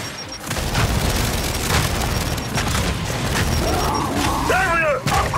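Frag grenade blast in Gears 5 Horde-style combat, a heavy booming explosion with crashing debris and continuous gunfire underneath, followed by short rising electronic tones near the end.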